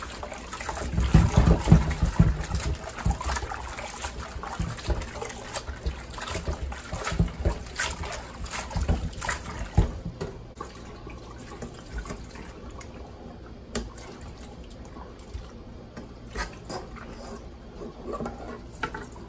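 Food is washed under running water while cooking a vegetable macédoine with gizzards and rice; splashing, trickling water is fairly loud at first, then settles into a quieter trickle.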